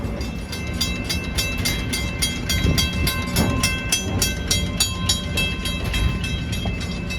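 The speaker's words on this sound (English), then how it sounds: "A lot of fans have come to see 765 arriving at the station" Steam locomotive 765 pulls into a station depot during a festival excursion, a steady loud rumble of rolling train with rhythmic clanking and hissing, continuous throughout with no talk.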